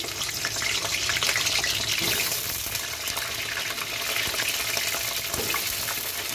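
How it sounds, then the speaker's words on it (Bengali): Thin-sliced potatoes fry in hot oil in a home kitchen before going into a mutton curry, making a loud, steady sizzle with crackling bubbles that continue without a break. "দেখুন দিয়ে আলুটা ভেজে নিচ্ছি।"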